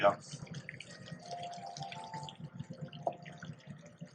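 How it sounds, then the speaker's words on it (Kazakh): Water is poured from a tap-like stream into a cauldron of Ferghana-style plov zirvak, a steady close liquid splash running for several seconds with a sharp clank at the start and a brief knock near the end. "Аздап су құямыз."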